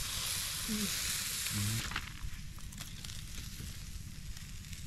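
Large grouper frying in shallow oil, giving a loud, steady sizzle and crackle that runs through the whole stretch, with a brief clatter as the fish is turned and a few short voiced sounds near the start.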